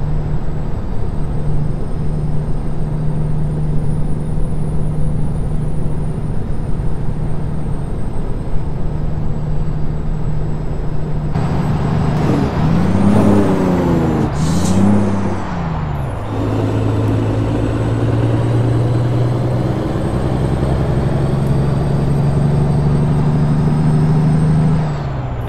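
A heavy truck engine in American Truck Simulator drones loud and steady with a throaty tone, briefly shifting and surging midway with a hissing, rising pitch before settling back into its constant rumble.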